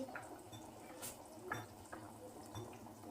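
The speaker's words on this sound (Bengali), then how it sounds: "এবার আস্তে আস্তে আমি এটাকে একটু নেড়ে দেব।" Faint scraping and soft clinks of a spoon stirring Bengali-style rohu fish curry with potato and papaya in a pot, a few gentle strokes over a low simmering bubble.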